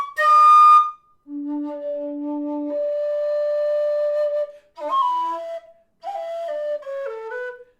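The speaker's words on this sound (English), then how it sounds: "That squeaking is changing whistles." Shrill tin whistle tones sound in separate held notes, each cut off by a brief break with little squeaks as one whistle is swapped for another.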